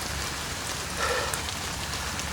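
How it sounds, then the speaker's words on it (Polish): Steady rain falls by a river, a dense, even hiss of drops that continues throughout, with a slight swell around the middle. "Podczas tego deszczu"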